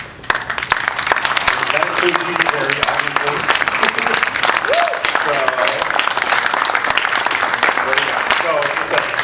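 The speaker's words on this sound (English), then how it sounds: "I just want to give a great applause." A conference crowd applauds steadily for the event's organizing team, dense clapping filling the room while someone speaks over it.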